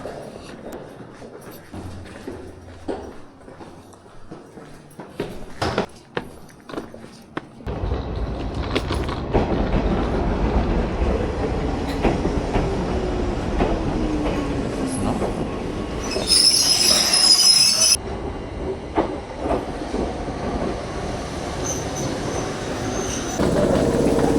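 A train in Japan runs between stations, wheels rumbling steadily on the rails throughout, with a brief high squeal of wheels midway and no talk.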